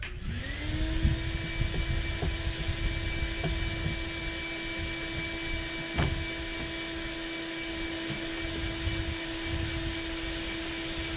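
A vacuum cleaner runs steadily with a tonal whine during office window removal at a cabin, and faint knocks and clatter from the prying work sound beneath it.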